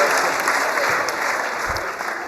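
A crowd at a game claps loudly and steadily, a dense wash of applause close by that holds throughout with no break.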